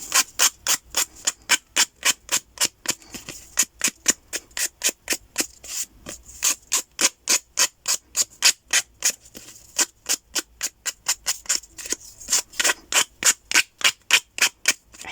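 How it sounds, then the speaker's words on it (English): A nail file rasps along the edge of a paper craft tag in quick, even back-and-forth strokes, a dry scratchy rhythm repeating steadily for about fifteen seconds, close up and alone. "I will just tidy this one up with the nail file."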